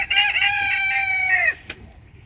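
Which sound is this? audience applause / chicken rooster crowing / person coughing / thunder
chicken rooster crowing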